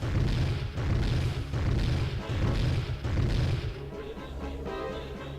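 A missile explosion in Warhammer 40k: Chaos, a run of heavy booming blasts and crashing impacts, loud and close, fading into a rumbling tail with debris.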